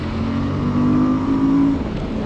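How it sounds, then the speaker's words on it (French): Suzuki V-Strom 1050 XT motorcycle engine pulling hard under acceleration, a steady loud mid-pitched drone that climbs slightly in pitch over about two seconds, heard alone with no talk. "On va tirer un peu sur le moulin pour voir ce que ça donne."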